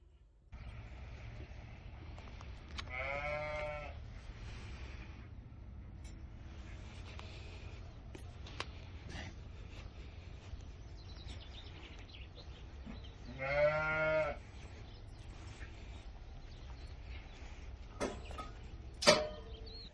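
Sheep and lambs on a farm pen after a stray dog attack bleat at intervals against a steady low background, with two loud, drawn-out bleats standing out nearby and no talk.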